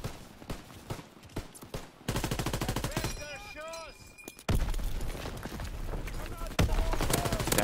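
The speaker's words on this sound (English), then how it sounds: "That was a grenade." Gunfire and a grenade blast in Call of Duty WW2 online team deathmatch, with sharp bursts of shots, a heavy explosion surge and continuous loud combat noise while a player talks over it.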